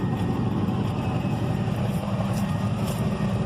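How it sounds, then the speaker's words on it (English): A V8 engine swapped into an S10 truck runs rough and uneven, a steady low rumble with irregular misfiring pulses, close and continuous throughout. "It almost sounds like, you ever heard a hit and miss motor?"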